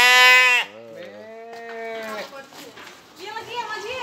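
Merino sheep bleat loudly and close by, one long wavering call followed by several more bleats, with people talking over and between the calls.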